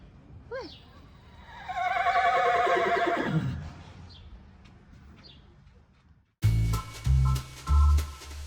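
A horse at the Virginia Horse Trials lets out a long, loud descending whinny close by, followed by quieter ambience and then a few thumps and short noises.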